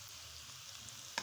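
Green onions going into a pan of frying cabbage and onions for Chinese rice give off a faint, steady sizzle, with one brief sharp clink near the end.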